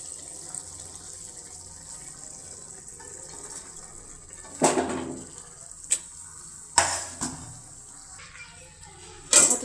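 Cabbage is added to a cooking pot with meat, giving a steady background sizzle broken by several sharp metallic clanks and scrapes of a utensil against the pot.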